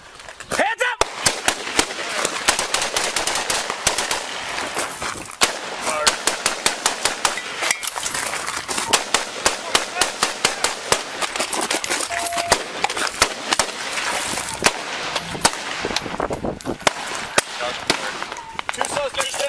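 Gunfire crackles throughout a police shootout with suspects, with dozens of sharp, irregular shots ringing out close by in rapid bursts, while people shout and talk under the shooting.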